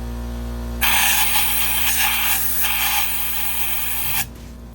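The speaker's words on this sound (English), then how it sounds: "I'm gonna use an air hose." Air hose blasting into a car engine's spark plug hole to clear debris from damaged threads, one loud steady hiss of about three and a half seconds over a low constant hum.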